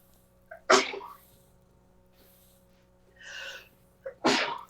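Two sharp sneezes, the first just under a second in and the second near the end, with a softer breathy sound between them.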